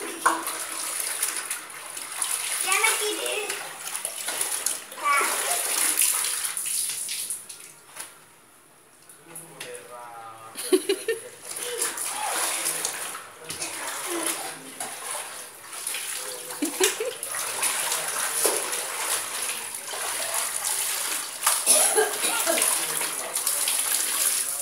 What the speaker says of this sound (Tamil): சின்ன துணியா ஃபர்ஸ்ட் அலசுங்க.